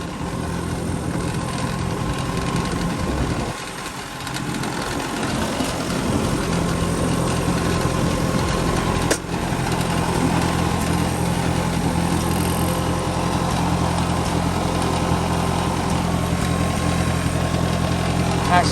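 An Oliver Super 55 tractor and an Allis Chalmers Model C tractor with their engines running, a steady close mechanical drone with a brief dip partway through and then a continuous chugging hum.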